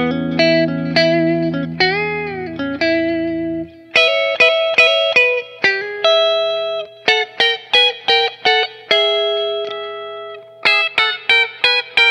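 Electric guitar with a warm, round tone from a Telecaster's neck pickup: a sustained chord, then a run of picked notes and short strummed chords, clean with light effects.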